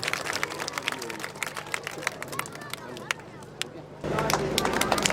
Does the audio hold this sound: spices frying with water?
no